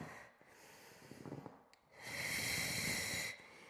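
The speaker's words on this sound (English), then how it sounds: "We're breathing deep here." Deep, audible breaths during a mat Pilates exercise, a soft nasal inhale followed by a long, steady rushing exhale, close and alone with no talk.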